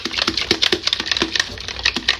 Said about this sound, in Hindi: अच्छे से हिला लो ताकि ये पूरा मिक्स हो जाए।